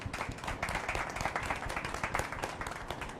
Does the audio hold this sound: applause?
yes